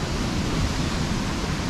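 Water rushing through the channel of a centuries-old watermill in Abbottabad, a loud, steady roar of flow filling the whole clip, close and with no voices.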